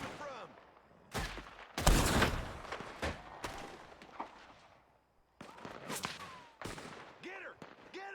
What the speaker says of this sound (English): Where are them shots coming from?